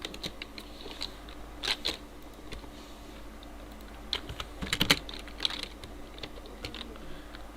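Keys tapped on a computer keyboard during a virtual physics study session, in irregular short bursts of clicks with pauses between them, close and fairly quiet.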